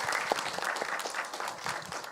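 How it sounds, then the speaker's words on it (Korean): An audience at a history lecture claps once more for the speaker, a moderate, fairly close burst of many hands with a few sharper individual claps. "최원호 기획본부장님께 다시 한번 큰 박수 부탁드립니다"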